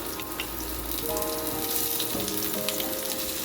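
Onion frying in hot oil in a pan for a Bengali fish egg curry, giving a steady close sizzle with bubbling and a few faint tonal clinks, no talking.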